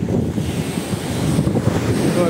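Strong wind blows at Samila beach in Songkhla during buffalo-kite flying, buffeting the microphone in a continuous rough rumble over a wash of surf.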